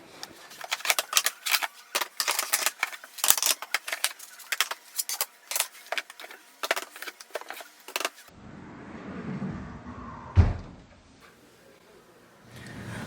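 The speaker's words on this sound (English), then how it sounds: "So I'm gonna set you down and put them all onto my desk." Eyeshadow palettes taken from a makeup drawer clatter onto a desk in a long run of sharp plastic clicks and taps, then a quieter rustling stretch with one distinct knock near the end.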